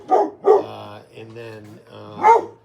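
A pet dog named Oliver barks in a few sharp bursts, close and loud, with a person speaking briefly between the barks.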